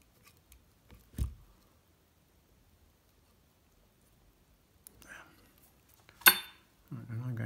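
Scissors snip excess deer hair from a mayfly emerger fly at a tying bench, giving a few sharp, isolated close-up clicks between long quiet gaps, with light handling noises around them.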